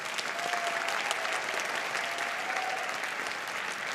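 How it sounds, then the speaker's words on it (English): Audience applause at a school winter concert, steady dense clapping from a large crowd throughout, fairly loud with faint voices mixed in. "Can we give them another round of applause?"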